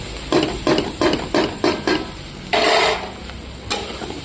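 A spoon stirs green cluster beans frying in a pan with onion and chili, scraping in a quick series of rhythmic strokes over a steady close sizzle.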